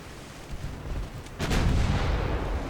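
Naval artillery booms in Ultimate Admiral: Dreadnoughts, a 1899 battleship engagement: a muffled distant thud, then a heavier blast whose rumbling roar carries on to the end.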